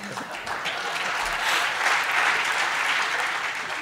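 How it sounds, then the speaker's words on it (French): A French television studio audience applauds in a sustained, even wash of clapping that swells slightly midway, heard from a moderate distance with a faint voice underneath. "Je sais pas ce que vous applaudissez"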